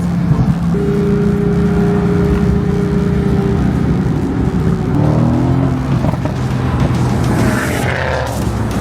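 A Porsche GT3 driving at night with the throttle floored, a loud continuous engine roar whose tones sweep and shift as it accelerates hard, heard from close by without a break.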